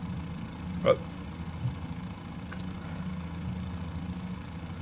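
Aircraft engines idle in a Flight Simulator 2020 Fokker F VII Retrofit, a steady low droning hum with a couple of faint clicks early on, continuous and even throughout.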